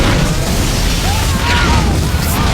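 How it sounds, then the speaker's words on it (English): A violent explosion from the Iron Man film as Tony flies off in the suit after destroying enemy weapons: a loud, dense, continuous roar and rumble that fills the whole stretch without letting up. "With a violent explosion, Tony flew off dramatically in the suit"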